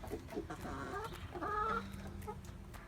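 Soft clucking from a few backyard laying hens nearby, short murmuring calls at a low level over quiet background.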